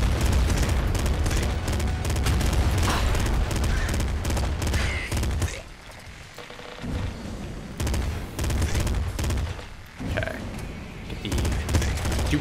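Rapid assault rifle fire from the Nuclear Throne video game rattles loud and dense in sustained bursts, with a short lull before more volleys and impacts.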